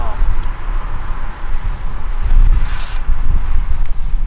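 Strong wind buffets an outdoor microphone, a loud, gusty low rumble that swells and dips throughout, while faint voices come through underneath.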